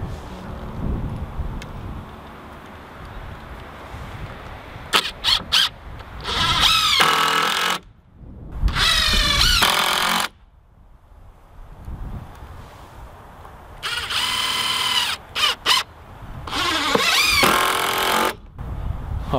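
A power drill drives screws into a wooden raised garden bed in about five loud whirring bursts that rise in pitch, separated by quieter outdoor background.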